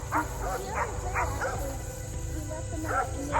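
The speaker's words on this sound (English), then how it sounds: "The dogs are always barking here" Several dogs bark and yip in a yard at irregular intervals, moderately close over a steady low hum, with brief quieter stretches between bursts and no voices.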